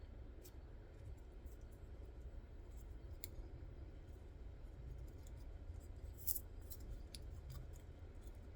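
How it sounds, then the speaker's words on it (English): Scissors snipping through paper in a room with a steady low background hum, giving scattered quiet cuts and clicks at irregular intervals, one slightly louder snip near the end. "It's easier if you are not trying to cut into the corner, the new edge of the paper."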